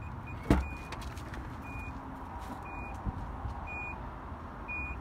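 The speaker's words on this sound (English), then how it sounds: "Of course, you've got a power lift gate." Power lift gate of a 2013 Infiniti QX56 in operation: repeated short electronic warning beeps at even intervals over a low motor hum, with a sharp click near the start.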